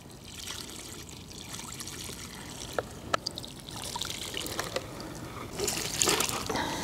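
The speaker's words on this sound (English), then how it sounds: "Let's add this water right here and let's just pour it." Water poured steadily onto dirt to form a mud pit for toy monster trucks, a continuous close trickle and splash that surges louder near the end, with no talking.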